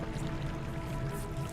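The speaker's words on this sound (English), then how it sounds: "So now we have water flowing through these doors" Water released by pulling a lever in Zelda: Twilight Princess pours and rushes steadily, a dense continuous flow filling the brief moment.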